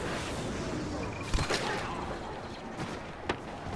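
Scattered blaster shots crack through a Star Wars Battlefront battle, a few sharp bursts over a steady rumble of distant combat, with a voice speaking faintly underneath.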